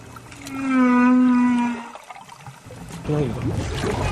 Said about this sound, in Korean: 크릴떼를 쫓아 혹등고래가 남극을 찾아왔습니다.